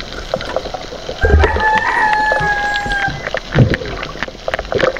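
A rooster crows once in a long, drawn-out call, loud and fairly close, with faint rustling and clucking around it.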